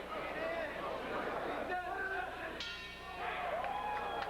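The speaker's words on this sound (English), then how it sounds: "And there's the bell" A boxing round bell rings once during a pro boxing bout, cutting through steady crowd noise and chatter, with a commentator's voice in the background.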